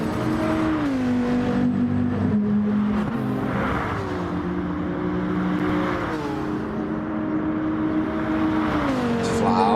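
Race car engine in a sim racing video game, droning steadily with rising and falling revs as the car laps and corners, with a commentator talking over it throughout.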